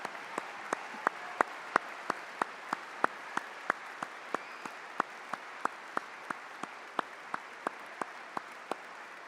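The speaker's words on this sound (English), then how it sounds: "can I ask all the academic and professional staff to please be standing while we join in a huge round of applause" Graduation-ceremony applause for academic and professional staff at Swinburne University of Technology: a steady wash of crowd clapping with sharp individual claps standing out at a regular rhythm, fairly distant and even throughout, with no voices.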